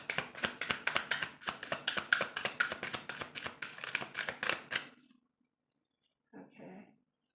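Tarot cards are shuffled by hand in a rapid run of crisp riffling taps lasting several seconds, then silence, then a short soft handling sound, close and clear.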